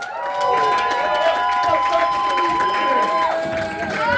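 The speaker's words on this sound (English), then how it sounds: "Y'all make some noise for him." A comedy club audience cheers, whoops and applauds loudly and steadily throughout, a dense crowd roar with shouts rising over continuous clapping.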